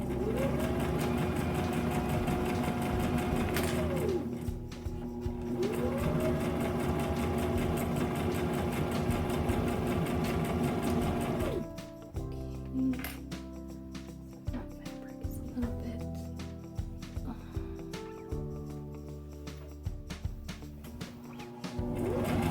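Sewing machine stitching fabric for a pillow, a loud fast rhythmic mechanical chatter running in long bursts with brief pauses, then shorter stop-and-start runs as the fabric is guided under the needle.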